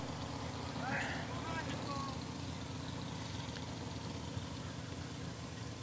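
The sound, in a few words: racing boat engines starting up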